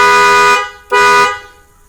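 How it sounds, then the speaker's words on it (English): A 2003-2007 Jeep Liberty's car horn sounds two loud, close honks during a wiring test for a remote start install: a long blast, a short break, then a second blast that fades out. "It's going to honk the horn whenever we ground it."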